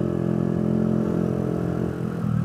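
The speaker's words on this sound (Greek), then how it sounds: "Πάμε να κατέβουμε μια παραλιακή, να κάνουμε μερικά ανοίγματα με το μηχανάκι" A Kawasaki Kaze R motorcycle engine drones steadily at close range on a coastal road, its low mid-pitched hum holding even with slight dips as it rides along.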